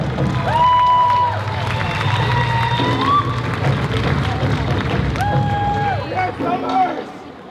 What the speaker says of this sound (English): And another round, big, huge round of applause for the drummers